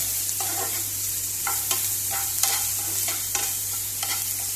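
Garlic and onion fry in a pan for a Goan sardine salad. A constant sizzle runs underneath while a utensil scrapes and stirs in regular, repeated strokes close by, with a low steady hum in the background.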